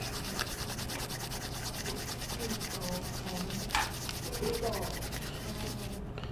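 Dried moxa (mugwort) is rubbed between the hands to refine it, giving a soft, continuous dry scratching and rustling close by, with a few faint incidental knocks and no talking.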